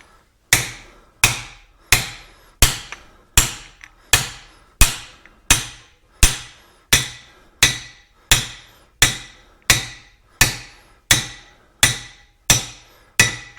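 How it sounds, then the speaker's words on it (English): A big hammer strikes the king pin bearings on a 1975 Ford 550 in a steady series of about seventeen loud, ringing metallic blows, evenly spaced roughly every three-quarters of a second, each ringing briefly before the next hit. "A little bit of tap with a big hammer like this, that's a lot of force that it's taking"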